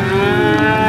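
A single cow moos, a loud, close, drawn-out call, during a family cattle drive.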